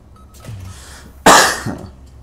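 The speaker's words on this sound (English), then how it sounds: "I want this cough to go away." A single sharp, loud cough bursts out close to the mic from a man, following a quieter stretch of faint background sound.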